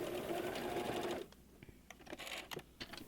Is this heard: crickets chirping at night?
no